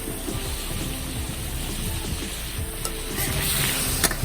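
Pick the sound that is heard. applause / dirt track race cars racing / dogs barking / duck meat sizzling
duck meat sizzling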